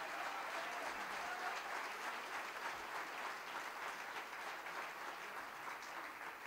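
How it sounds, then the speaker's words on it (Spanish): Applause greets a guitarist after a live band performance, a dense steady clatter of clapping from an audience that holds evenly at a distance for several seconds. "Un aplauso muy fuerte para nuestro guitarrista, el Mr. Francisco Simón"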